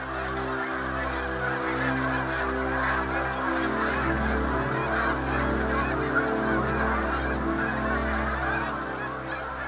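A large flock of migrating geese honks continuously at a ranch pond, many overlapping calls forming a dense, steady chorus close by with no pauses or voices.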